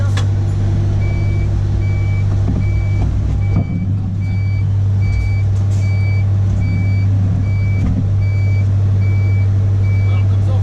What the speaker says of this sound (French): il y a un camion, je dois attendre